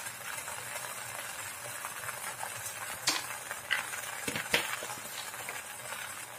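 Goat brain fries in a pan with spices such as ginger-garlic, salt, turmeric and garam masala, under a low, steady sizzle. A spoon scrapes and stirs through it in several sharp strokes near the end.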